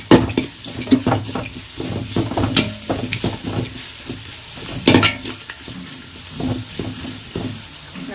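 Onions sauté in a pan for biryani, with a steady close sizzle and frequent clinks and scrapes of a spoon stirring against the metal pan, no talking over it.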